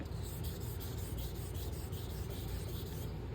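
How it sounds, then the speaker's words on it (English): A straight razor makes steady, continuous wet rubbing half strokes across a coticule honing stone covered in slurry. The close, even swishing runs without pause and no voices are heard. "So what I do, and you don't have to do, is I put roughly 50 or 60 half strokes on here."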